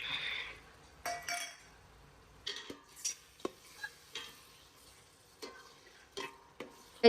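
A spoon stirs boiled vegetables and peas into pav bhaji gravy in a pan, with scattered clinks and scraping knocks against the metal at an uneven rhythm under a soft sizzle.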